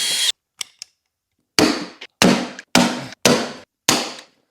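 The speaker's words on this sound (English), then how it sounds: "Now that this top line of screws is in, we can do the bottom line of rivets." Rivets are set one after another into a motorcycle tunnel grip near the gas tank, each a sharp close snap, with about five evenly spaced pops after a few quieter clicks.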